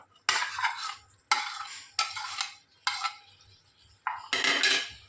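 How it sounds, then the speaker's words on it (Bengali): A utensil stirs boiled chickpeas with water and fried paneer pieces in a pan over high flame, making about five separate scraping, clinking bursts with short quiet gaps between them. "গ্যাসের ফ্লেমটাকে হাই করে ভালো করে চানাটাকে মিশিয়ে নিচ্ছি জলের সাথে"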